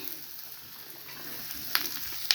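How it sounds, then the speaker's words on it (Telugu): Green chili, beetroot, onion and beans frying in a pan, giving a steady, fairly quiet sizzle throughout with a couple of brief sharper crackles near the end. "చూడండి ఫ్రెండ్స్, వేగుతున్నాయి"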